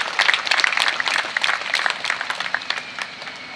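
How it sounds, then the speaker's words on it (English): A crowd at the opening day of the Grange Fair truck pulls claps for veterans, a lively spatter of individual hands that is loud at first and gradually thins and fades. "Everybody give them a big round of applause and love."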